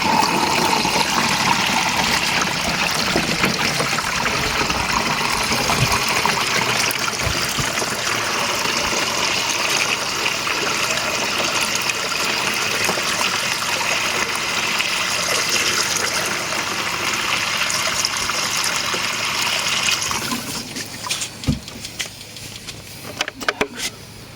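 Water gushes steadily into a sprayer tank, mixed with calcium nitrate for treating grapevines, a loud, continuous rushing fill that cuts off near the end, leaving faint trickles and clicks.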